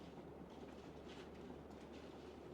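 A TCL 52-inch ceiling fan running at speed 6, heard from close by as a steady, even whoosh of moving air with a low hum and no pauses.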